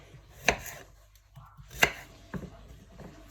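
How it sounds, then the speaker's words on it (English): Potatoes being cut into halves or quarters with a knife on a board: two sharp close chops, then a few softer cuts, with quiet between them. "So I'm just going to either cut them into half or into quarter"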